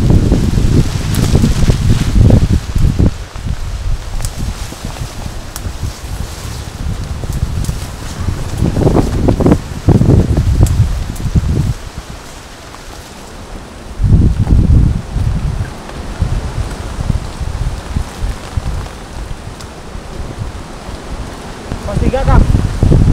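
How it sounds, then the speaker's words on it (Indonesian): Rain falls on leaves in a mountain forest, a steady broadband patter with rustling and gusts of wind buffeting the microphone, while people talk now and then over it. "Hujan guys."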